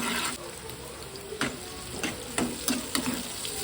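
Chopped onion frying in hot oil for egg curry, a soft steady sizzle near the pan with several brief stirring scrapes, no voices heard.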